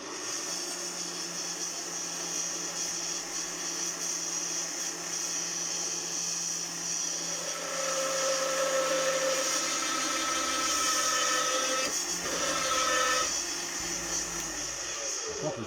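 A Scheppach DP60 drill press runs at low speed with a steady loud mechanical whine and motor hum, joined by some scraping and clunking partway through.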